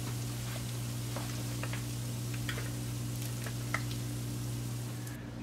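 Beer-battered catfish frying in a pan gives a steady, dense sizzle throughout, with a constant low hum underneath and a few faint crackles and pops scattered across the surface.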